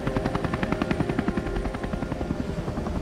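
A helicopter hovers close over water during capsule splashdown recovery training, its rotor blades beating a loud, fast, steady chop throughout.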